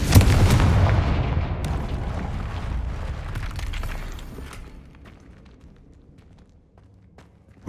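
A Confringo blasting curse in Hogwarts Legacy detonates with a loud, close boom, its roar and crackling debris tapering off over several seconds into near silence.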